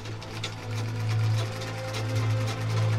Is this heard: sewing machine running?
yes